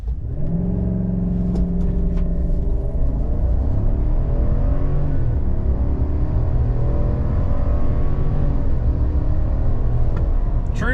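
A 2024 Chevrolet Silverado ZR2 Bison runs a 0 to 60 launch on a private road, with traction control off and four-wheel auto engaged. The loud, close engine roar climbs steadily in pitch through the gears, with a brief dip at each shift.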